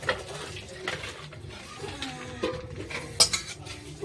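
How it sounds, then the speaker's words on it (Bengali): A metal wok (kadai) set back onto a home kitchen stove during fish curry and papaya cooking clatters and knocks against the burner, with scattered metallic clinks and a sharper bang near the end. "কড়াইটা আবার বসিয়ে দিলাম"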